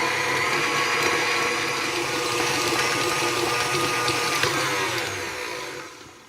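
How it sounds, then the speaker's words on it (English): A stand mixer kneads dough for a German baked apple cake with a steady, close whirring motor hum that stays even throughout and tapers off at the end. "And now I will give it a mix"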